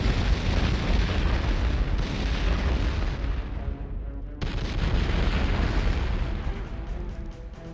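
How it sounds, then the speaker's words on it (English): A loud, sustained explosive rumble with crackling bursts from a master computer's destruction in Turok 2, briefly dipping before a second roaring blast continues to the end. "a smaller explosion than I would have expected"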